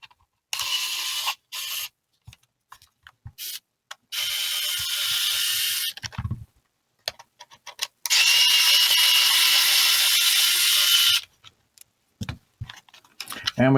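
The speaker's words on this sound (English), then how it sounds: "First of all, we will be removing the screws." Screws are backed out of a DJI FPV drone battery case with a small powered screwdriver, which whirs loudly in several separate runs, the longest about three seconds, with faint clicks and handling noises between them.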